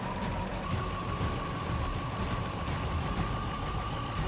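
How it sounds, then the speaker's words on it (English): A K700A Kirovets Soviet tractor, over 12 tons with a V8 diesel engine of about 220 horsepower, runs with a steady, loud low rumble and rough mechanical clatter, constant throughout. "The K700A Kirovets, a Soviet tractor weighing over 12 tons, uses a powerful V8 diesel engine producing around 220 horsepower."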